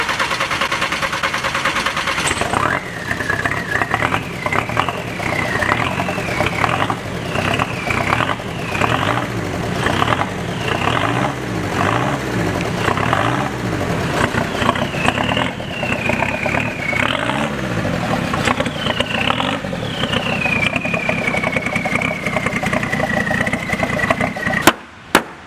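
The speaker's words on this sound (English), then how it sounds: "I think we need to start this up and just kind of clear the spider webs out of the engine" A turbo diesel Volkswagen Beetle fitted with a Cummins engine runs close by, a steady rumble broken by a series of rhythmic revs before settling back to an even idle, with no talking.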